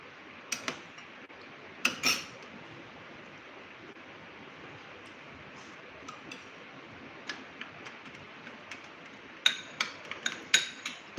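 A spoon scoops tea powder into a homemade hair dye mixture, giving a few sparse, light clinks against the bowl separated by quiet gaps, with a small cluster of taps near the end.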